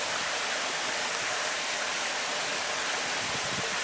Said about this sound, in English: and the waterfall down there